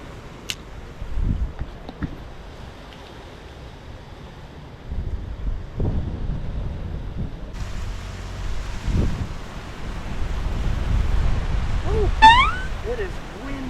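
Strong nor'easter wind buffets the microphone at the St. Augustine, Florida coast, a steady rumbling roar with gusts swelling louder toward the end, mixed with faint surf and occasional voices.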